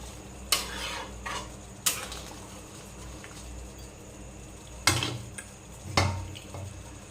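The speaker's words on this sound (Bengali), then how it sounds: "এবারে ঢেকে দেব।" Spoon stirring a pot of chicken curry, then a lid set on top: four sharp metallic clanks and scrapes stand out against quiet kitchen background, with no talking.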